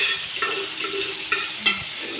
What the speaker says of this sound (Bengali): এদিকে আলুটাও ভাজা হয়ে গেছে প্রায়।